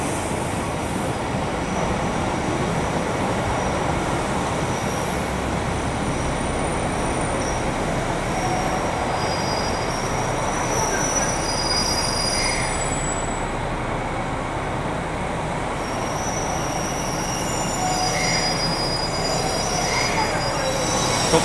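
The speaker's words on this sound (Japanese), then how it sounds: "列車到着です。 261系特別急行宗谷稚内行きです。" A JR Class 261 diesel limited express Soya, a four-car train bound for Wakkanai, pulling into a station with a loud continuous rumble and high wheel squeal that persists the whole time, close by.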